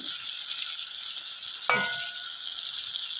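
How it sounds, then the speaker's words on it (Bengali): Pointed gourd frying with spices in a pan gives a continuous bright sizzle, close and steady, with a single sharp scrape of a spatula midway through the stirring. "পটলের সাথে মশলাটা ভালোভাবে মাখিয়ে নিচ্ছি, একটু নেড়ে চেড়ে নিচ্ছি যাতে মশলাটা ভালোভাবে পটলের মধ্যে ঢোকে"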